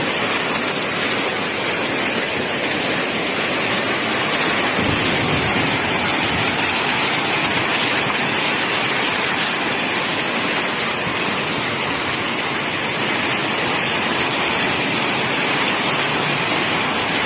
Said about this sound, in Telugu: వాగులు వంకలు పొంగి పొర్లుతున్నాయి